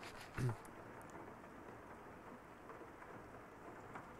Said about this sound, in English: It's raining? Oh, I like the rain.